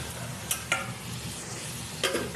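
Boiled bottle gourd tossed into hot oil tempered with whole cumin seeds, giving a steady low sizzle with a few sharp spatula scrapes and clicks as it is stirred.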